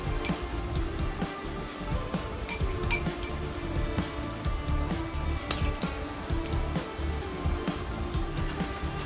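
A metal spoon stirs sour yogurt into a spice paste for steamed tilapia in a bowl, producing faint scraping with scattered light clinks against the dish, fairly quiet and irregular, with no talking.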